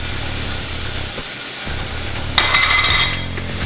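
Garlic and ginger sizzling in hot oil in a wok for a Huli-Huli beef stir fry, a steady close hiss that flares louder and brighter as ingredients hit the oil, with no talk.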